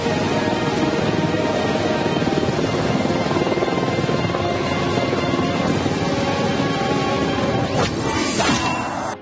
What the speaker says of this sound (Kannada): ಅಪಾಚೆ ಅಟ್ಯಾಕ್ ಹೆಲಿಕಾಪ್ಟರ್ಗಳನ್ನು ಬೋಯಿಂಗ್ ನಿರ್ಮಿಸಿದೆ